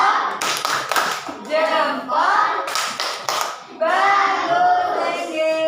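A group of children clap in rhythmic patterns during a classroom clapping game, crisp close taps mixed with their voices chanting along.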